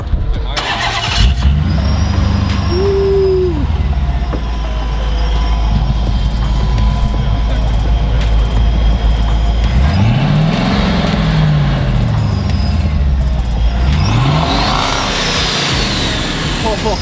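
A loud supercharged Dodge Magnum engine revs up and down through its exhaust, rising and falling in pitch twice, with people talking over the rumble.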